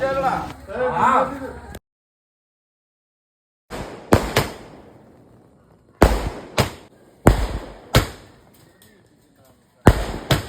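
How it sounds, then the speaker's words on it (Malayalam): Several sharp firecracker bangs burst nearby at a church feast, singly and in quick pairs, each trailing off into a brief echo, with a silent gap early on. "വന്നപ്പോ ഇപ്പൊ നമ്മള് പടക്കമൊക്കെ പൊട്ടിച്ചു തുടങ്ങി"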